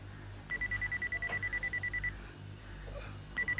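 Toy robot beeping: a rapid run of evenly spaced electronic beeps lasting over a second, a pause, then another short burst, all fairly clear over a low background hum.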